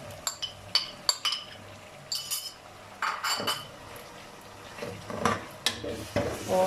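Tomatoes and green chilies fry in biryani masala in a pan, with a soft steady sizzle broken by sharp clinks and scrapes of a metal spoon stirring, close and moderately loud.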